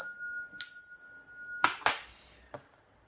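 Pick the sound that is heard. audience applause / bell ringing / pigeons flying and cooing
bell ringing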